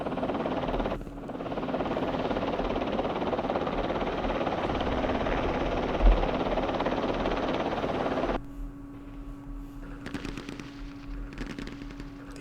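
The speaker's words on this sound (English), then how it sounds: "Let's bring in our helicopters." Helicopters fly in a war video game set in the Middle East, their steady, loud rotor-and-engine roar filling about eight seconds before it drops to a quieter hum with scattered crackling bursts.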